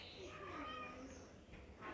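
Cat meows played from a phone app, a few short tonal calls close by over a constant background hiss, with a brief rising call near the end.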